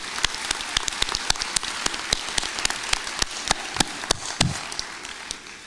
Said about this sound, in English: Please give yourselves and everyone around you a warm round of applause.